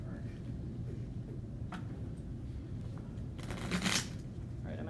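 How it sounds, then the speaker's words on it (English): A deck of playing cards is shuffled in a classroom, giving soft riffling ticks and a brief louder burst of fluttering cards near the end, against quiet room noise. "I'm going to give them one more shuffle for good measure."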